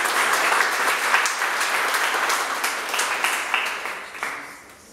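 A church congregation at a testimony service applauds together, a dense, steady wash of many hands clapping at fairly close range that holds for several seconds and then tapers off toward the end.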